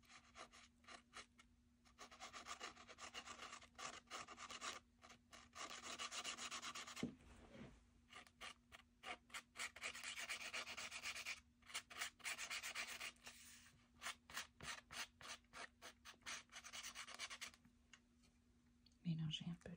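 A small stick rubs colour onto an art journal page, giving close scratchy strokes in bursts and quick repeated dabs with short pauses, a faint steady hum underneath and a voice speaking briefly.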